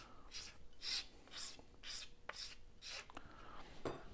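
A small file scrapes burrs off a model bridge arch piece in faint, evenly spaced rasping strokes, about eight in a row.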